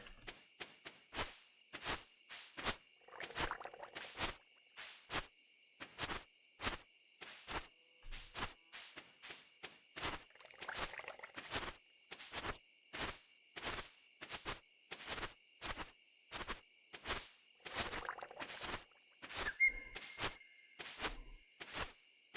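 A frog in the farming game Stardew Valley croaks in a steady run of short, evenly spaced clicking pulses over about twenty seconds, faint and alone, with a few slightly fuller bursts among them.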